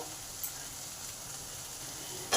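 Ground turmeric, chilli, garam masala, cumin and coriander frying in a pan for pancharatna dal, a faint steady sizzle throughout with a brief louder scrape at the end, no talking.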